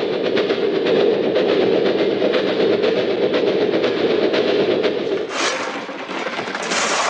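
Railway wagons rolling over track joints on a German train of the 1940s era, a steady loud rumble with rhythmic clickety-clack beats throughout, a brief dip near the end, no voices.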